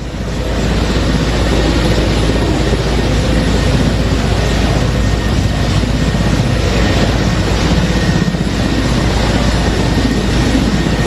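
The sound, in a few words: helicopter flying away, news footage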